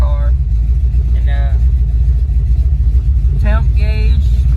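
A car engine fitted with Killshot EFI fuel injection idles loud and steady with a deep low rumble, while someone talks over it in short phrases.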